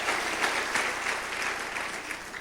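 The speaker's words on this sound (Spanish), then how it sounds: "Dale un aplauso más fuerte al Señor por su gran fidelidad" A church congregation claps for the Lord during a Spanish-language service, steady, moderately distant applause of many hands with a continuous patter throughout.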